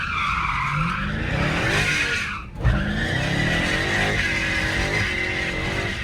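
A Dodge Charger Hellcat skids with loud, sustained tire squeal over a roaring engine. The squeal breaks off for a brief moment midway, then picks up again and continues.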